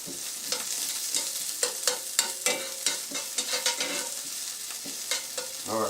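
Onions and garlic frying in a skillet, sizzling steadily while a utensil stirs them in repeated scraping strokes, near and alone.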